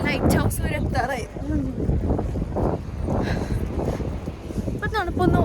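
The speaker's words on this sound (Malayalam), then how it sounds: "കാറ്റുണ്ട്" Gusty wind buffets the microphone at a seaside harbour near a lighthouse, a steady roar running throughout while people talk over it.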